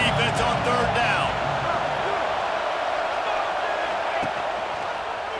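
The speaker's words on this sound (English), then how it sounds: "Decibels rising as the crowd gets behind this defense on third down." Stadium crowd roaring for the defense on third down in EA Sports College Football 26, a loud, sustained wash of cheering that swells early and holds steady, with a commentator's voice briefly over it.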